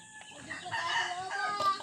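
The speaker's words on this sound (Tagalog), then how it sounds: "Maraming mga manok dito mga paps oh. Texas yan. Pansabong yan." Texas fighting roosters, gamefowl kept for cockfighting, cluck and crow nearby in a short burst of overlapping calls, moderately loud against a quiet farmyard backdrop.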